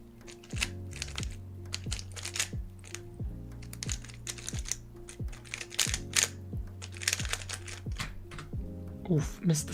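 Fingers type on a computer keyboard in rapid, uneven bursts of crisp clicks, close and fairly quiet, with a voice and a steady tone in the background.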